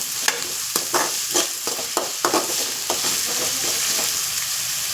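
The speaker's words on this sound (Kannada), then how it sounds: "ಈ ಆಯಿಲಲ್ಲಿ ವೆಜಿಟೇಬಲ್ಸ್ ಎಲ್ಲ ಕುಕ್ ಆಗಬೇಕು" Vegetables sizzle steadily in hot oil in a pan for fried rice while a spatula stirs them, its scrapes and clinks coming in quick irregular strokes over the constant loud frying hiss.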